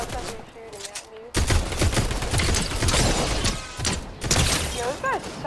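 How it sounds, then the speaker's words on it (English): Rapid gunfire bursts in Fortnite Zero Build, with sharp repeated shots and clattering weapon sounds crowding the mix close by, interrupted by short pauses. "Oh, somebody's shooting at me."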